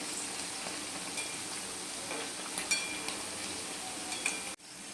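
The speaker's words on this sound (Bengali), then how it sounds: "চিপসগুলো হাতে সময় নিয়ে ভাজতে হবে।" Homemade potato chips deep-frying in hot oil, giving a steady fizzing crackle with a few sharper pops, stirred gently now and then, cutting off abruptly just before the end.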